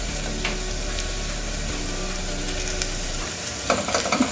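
Salt being stirred into a frying mixture in a pan while making millet upma, a continuous close sizzle with soft scraping stir strokes and a few sharper clinks near the end.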